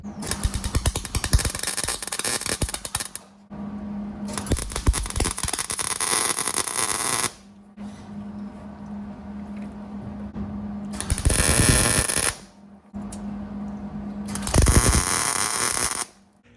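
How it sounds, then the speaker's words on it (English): MIG welder laying tacks on stainless steel exhaust pipes for a BMW E46, four loud crackling, buzzing bursts of a few seconds each separated by brief pauses. "I'm gonna try and tack them together now"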